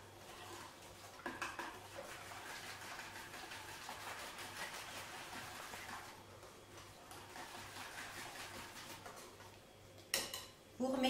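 A brioche custard mixture being whisked in a bowl, with a busy, continuous rattling and clinking of the whisk against the bowl for several seconds and a few louder knocks near the end.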